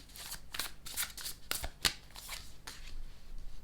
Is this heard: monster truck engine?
no